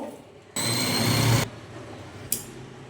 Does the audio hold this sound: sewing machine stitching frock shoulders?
yes